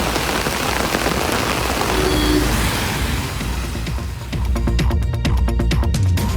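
Rain falling steadily in a dense, continuous patter on surfaces, loud and close, with drips growing sharper and more distinct toward the end and no voices.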